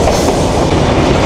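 The Banalata Express races from Dhaka to Rajshahi at speed, with a loud, continuous roar of wheels and rushing carriages heard close from on board.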